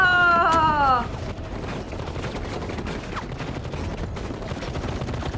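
A burst of gunfire from a scene in The Walking Dead, loud at first and then a steady clatter of shots and crackle mixed with the show's audio, alongside people reacting.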